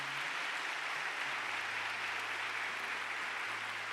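A congregation at a church service applauds in a steady, even wash of clapping that holds at a moderate, slightly distant level throughout.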